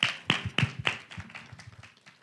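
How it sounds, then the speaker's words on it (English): Scattered handclaps from the audience at a college student debate, about four crisp claps in quick succession that thin out into a few faint, trailing ones. "Round of applause, please."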